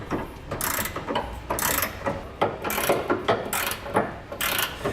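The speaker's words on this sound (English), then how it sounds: "we're going to grab a 15/16 wrench and socket, and we're just going to snug up the hardware" A ratchet wrench with a 15/16 socket snugs up bolts on a fifth wheel underbed bracket beneath a 2017 Ford F-350 Super Duty, giving close, loud bursts of rapid clicking in repeated strokes with brief pauses between.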